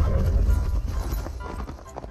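Horse hooves clattering at a gallop in the Mission Evo survival battle royale game, a brief loud burst of rapid thuds over low rumbling background noise.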